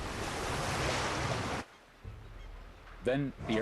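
Water waves wash loudly around a passenger plane floating on the Hudson River in a dramatized crash, a steady surging roar that cuts off abruptly, followed by quieter lapping and a few brief honk-like calls.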